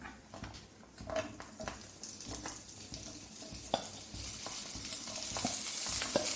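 Potato and okra frying in a little oil in a non-stick pan, a steady crackling sizzle with repeated sharp taps and scrapes of stirring, growing slightly louder toward the end.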